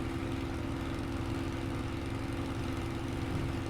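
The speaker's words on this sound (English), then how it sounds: "Hopefully the purr of the Merlin is coming through" The Merlin engine of a Spitfire in a flight simulator gives a steady, low, continuous drone at moderate volume with no break or change, and no voices.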